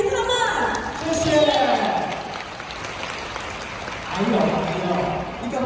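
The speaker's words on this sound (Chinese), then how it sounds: "来，我们用热烈的掌声来谢谢他们。" Banquet audience applauding at an anniversary spring dinner, a soft continuous patter of clapping beneath a host speaking over it.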